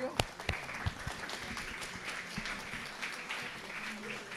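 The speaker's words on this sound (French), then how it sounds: "Je vous propose de l'applaudir." An audience at a lecture breaking into applause, a few sharp early claps swelling into a soft, steady round of clapping, fairly distant and faint.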